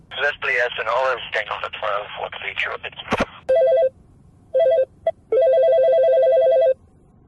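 A telephone rings at the Raccoon City fire station in Resident Evil, loud electronic trilling bursts in a repeating pattern, following a voice talking just before.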